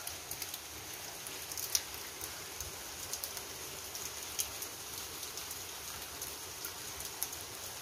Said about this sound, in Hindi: ये देखिए इतनी बारिश हो रही है, मतलब धार बारिश सुबह से ही हो रही है